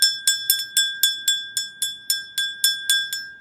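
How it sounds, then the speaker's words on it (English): A hand bell rings in a steady series of about thirteen bright, clear strikes, each decaying quickly, close and alone without talk. "I'm going to ring my handy dandy bell."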